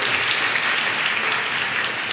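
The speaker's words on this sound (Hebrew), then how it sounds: "מגיע לו מחיאות כפיים." Dense applause from a conference audience, steady and sustained throughout with no pauses or talk, a broad even wash of many hands clapping.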